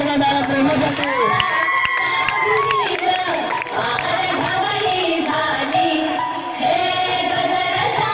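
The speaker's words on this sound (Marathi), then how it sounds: "एकदा जोरदार टाळ्या प्रेमासाठी" An audience cheers and shouts, with whoops and high voices rising over a busy crowd roar that stays loud throughout.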